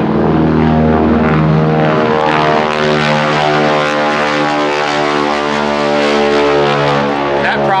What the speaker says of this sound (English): you're going to hear those props changing pitch and all that